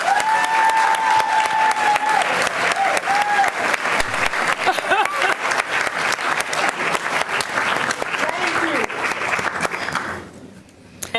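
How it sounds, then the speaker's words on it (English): Audience applause at a school district recognition event, sustained loud clapping from a crowd with a few voices calling out, fading away near the end. "Give him a round of applause."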